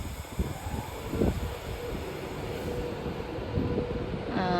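Class 390 electric train, unit 390 127, pulling out of Carlisle station bound for London Euston from Glasgow Central, a steady low rumble and rolling noise holding near and even throughout.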